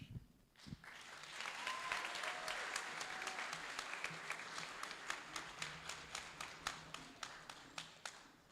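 Live-streamed audience applauding after a solo piano piece, a full round of clapping that swells, holds, then breaks into sparser individual claps as it fades.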